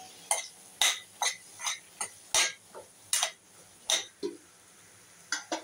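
Chopped ridge gourd being sautéed in a pan, the spatula tapping and scraping the pan in a string of light, fairly regular clicks, soft and close with no voices.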